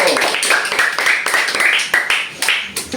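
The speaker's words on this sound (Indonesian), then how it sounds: "kita tepuk tangan untuk Nona dulu." A small classroom group claps together in quick, uneven rhythm for a few seconds, fairly close and steady.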